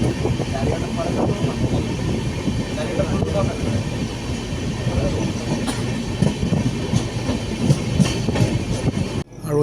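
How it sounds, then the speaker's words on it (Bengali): A passenger train, the Amritsar Mail, slowly pulls away from a station platform, with a low continuous rumble and intermittent clanks heard from aboard while a voice speaks over it. "ট্রেন এখন আস্তে আস্তে করে ছেড়েছে"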